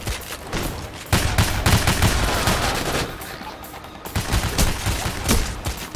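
Rapid bursts of automatic gunfire from PAYDAY: The Heist, dense and continuous, with overlapping shots and a brief lull near the midpoint before the firing picks up again.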